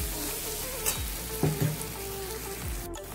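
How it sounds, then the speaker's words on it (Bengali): Onions frying in hot oil for a Bengali fish curry (macher kalia), a steady close sizzle with a few stirring clinks and scrapes, no talking. "পেঁয়াজ তো লাল হয়ে গেছে"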